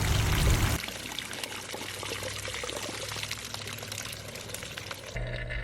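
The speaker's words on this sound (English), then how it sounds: "You can then shut the vacuum down, open up the ball valve, and drain out the waste." Waste pond water draining from a shop vacuum converted into a pond vacuum through an opened ball valve, a continuous pouring gush that starts after a brief louder burst and runs steadily before another noisy shift at the end.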